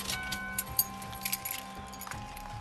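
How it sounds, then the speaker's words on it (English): Car keys jangle and clink as they are passed over during a traffic stop, a few light metallic rattles over a faint idling car hum, with no talk. "Turn off the car and pass me the keys, please."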